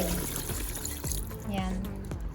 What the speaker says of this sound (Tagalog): So, pwede tayong magdagdag ng konting tubig.